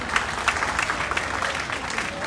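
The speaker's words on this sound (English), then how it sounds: "Give him a round of applause. Huge round of applause." Audience applause at a college graduation day ceremony, a dense steady patter of many hands clapping at moderate loudness for a couple of seconds.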